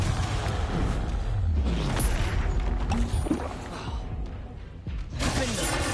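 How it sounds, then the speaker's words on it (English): A Confringo explosive spell cast in the Hogwarts Legacy video game bursts with a shattering, booming crash and whooshing debris amid busy combat effects, then a brief lull before another burst. "Confringo."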